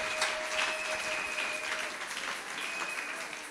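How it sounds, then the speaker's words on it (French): A church congregation breaks into sustained applause and cheering in praise of the Lord, a dense wash of clapping that stays steady and fairly loud throughout, with a few faint voices mixed in. "Si tu comprends ça, acclame le Seigneur des Seigneurs."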